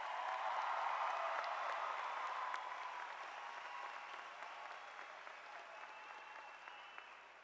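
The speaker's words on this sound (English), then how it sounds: "Let's give them all another big round of applause." Applause from the audience at a Deep Creek High School graduation ceremony, a broad, distant wash of clapping that starts full and slowly fades over several seconds.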